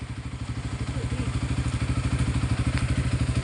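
A motorcycle engine idles roughly and loudly, its rapid steady putter clattering without pause throughout.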